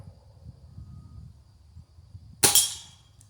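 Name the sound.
Gamo Whisper Fusion Mach 1 .22 air rifle shot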